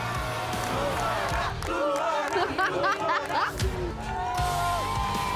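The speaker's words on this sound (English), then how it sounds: "Every surfer is stunned by how many people from their home countries are there cheering them on." Crowd at the Gold Coast Pro surfing contest in Australia cheering and calling out, a dense wash of excited voices with shouts rising and falling, loud and continuous throughout.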